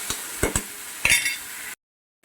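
Fish pieces frying in a mango curry pan give a soft sizzle with several sharp utensil clinks and scrapes, then a sudden cut to silence near the end.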